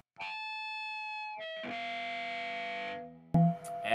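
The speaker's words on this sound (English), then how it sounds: "Usually not having that center block means we're gonna have some sort of a feedback." A 1983 Gibson Crest hollow-body electric guitar is played through distortion with its volume knobs turned almost all the way down, giving sustained, buzzing chords and feedback tones, then a sharp new attack near the end.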